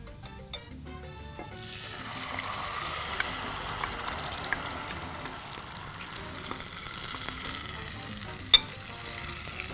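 Garlic fries in oil in a pan for yogurt soup, giving a soft, steady sizzle with occasional stirring clinks and one sharp tap.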